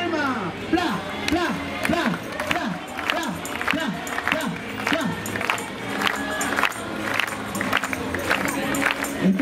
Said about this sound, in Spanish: Con alegría vamos, con las palmas. ¡Pla!